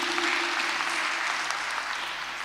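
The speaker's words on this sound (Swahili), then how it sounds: "Tumpigie makofi vizuri." A church congregation at a Kikuyu-language Sunday service claps in steady, dense applause that fills the room evenly for the whole stretch, with no individual voices standing out.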